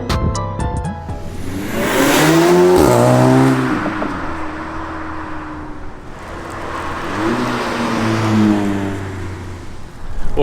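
An Audi A3 drives off on a test run after a rear differential mount upgrade, its engine revving up and pulling strongly, then easing off before a second rise in revs, close and loud with no talking.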